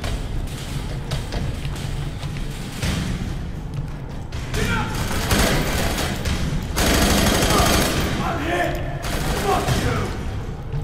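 Gunfire in the shooter game F.3.A.R., rapid bursts of automatic fire and thumping impacts running continuously at close range, with a voice talking over the shooting.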